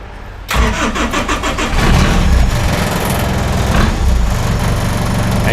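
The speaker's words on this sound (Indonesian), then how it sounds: "ini suaranya karena nggak ada muffler mungkin agak berisik. Let's go start." A diesel buggy with no muffler cranks and fires, then settles into a loud, raw, rough idle close by, with no voices.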